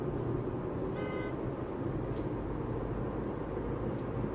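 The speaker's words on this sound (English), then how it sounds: "Just like that guy honked" A car horn gives a brief toot from another vehicle somewhere ahead, heard through steady road and engine noise inside a moving car; faint and short against the continuous driving rumble.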